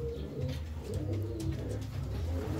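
Fancy ornamental pigeons coo in low, soft, throaty rolling calls that overlap continuously, close by and steady, with no talk over them.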